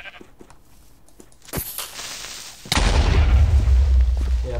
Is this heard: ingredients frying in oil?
no